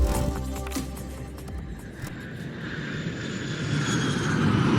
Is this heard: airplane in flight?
yes